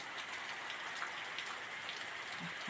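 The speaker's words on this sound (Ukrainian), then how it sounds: "Дощ шурує" Steady rain pouring down outdoors in winter thaw weather, a continuous even hiss of drops on surfaces with no voices, close and moderately loud throughout.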